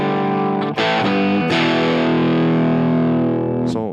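A distorted electric guitar plays a chugging rhythm riff with sustained, crunchy chords, loud and up close with no voices.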